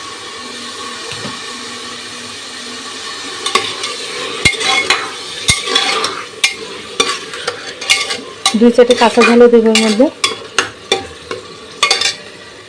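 Chicken skin frying with onions in hot oil, a steady sizzle broken by sharp spatula clacks and a burst of busy stirring, with a voice speaking briefly over the cooking.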